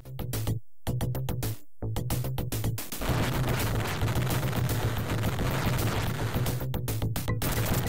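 Gunfire in the shoot 'em up video game Body Count, a rapid series of sharp shots with brief gaps that merges into a dense, continuous burst of firing and crashes over a steady low game hum.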